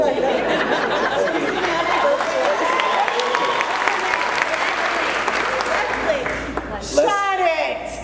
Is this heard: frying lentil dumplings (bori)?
no